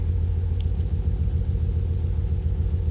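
A Cummins diesel engine swapped into a truck idles with a steady, deep, loud rumble heard up close, with no voices over it.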